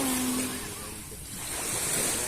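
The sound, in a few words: ocean waves on a beach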